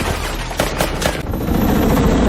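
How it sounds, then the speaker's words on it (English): A sniper's rifle shot in a dramatic scene, heard as a few loud sharp cracks over a dense, roaring background of rumble and noise, brief and forceful. "A gunshot rings out."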